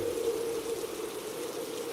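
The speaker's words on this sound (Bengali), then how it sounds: "অন্ধকার ঘর, ঝড় বৃষ্টি শুরু হয়েছে।" Steady rain falling during a storm in a dark room scene of a horror animation, a continuous soft hiss held evenly throughout, with a brief louder thud right at the end.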